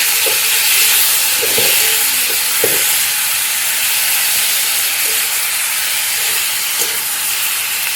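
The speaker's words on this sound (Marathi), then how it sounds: "कांदा टमॅटो आलं लसूण हिरव्या मिरची आपण सगळं घालूया. आणि चांगलंसं आपल्याला आहे ना हे परतून घ्यायचं" Onion, tomato, ginger, garlic and green chillies sauté in oil for paneer bhaji, giving a steady broad sizzle throughout with a few soft stirring knocks, close and fairly loud with no talking.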